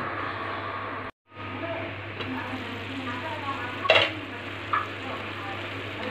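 Paneer bhurji with garam masala cooks in a covered pan, giving a steady close sizzle and frying hiss with a brief dropout, then light stirring and a couple of utensil clinks near the end.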